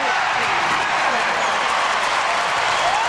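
Basketball arena crowd at a 1996 Bulls game roars steadily after a fast break, a loud, dense wash of cheering and applause from start to finish, with voices over it.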